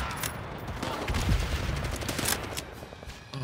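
Rapid gunfire in the World War II shooter World at War, as dense bursts of close shots crackle continuously throughout with no pause.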